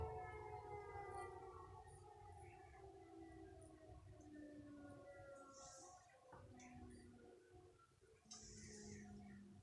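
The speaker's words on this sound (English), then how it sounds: "you might hear a lot of fire engines and ambulance, like you just heard" Distant fire engine and ambulance sirens wail and slowly fall in pitch, several overlapping, under steady wind noise and low rumble on an extremely windy day.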